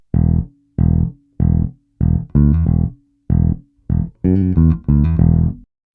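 A lone electric bass plays a punchy, syncopated funk line, short plucked notes with a few quick slides and octave pops, clear and upfront.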